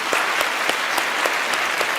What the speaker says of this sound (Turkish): Bir de kocaman alkış duysunlar ne olur.